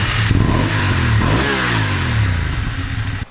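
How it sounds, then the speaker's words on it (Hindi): A BMW GS motorcycle on its stock exhaust revs hard nearby, the engine note climbing and falling in a sweeping rise before settling into a steady, loud idle-like drone, with no voices. "तो भाई लोग ये स्टॉक एग्जॉस्ट की आवाज़ थी।"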